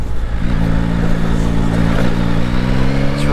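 A 2022 Yamaha Tracer 9 GT motorcycle pulls hard in second gear, its engine note loud and close with a steadily rising harmonic drone and wind rush throughout.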